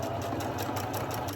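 A sewing machine runs a stitch, a quick, even mechanical whirring with rapid rhythmic pulses, fairly quiet and close, steady for a moment before easing off.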